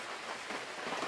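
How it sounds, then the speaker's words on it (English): Steady rain falls outdoors on an unroofed building under construction, a dense, even hiss of drops on surfaces with no voices, continuous and moderately loud throughout the short stretch. "because it's raining outside"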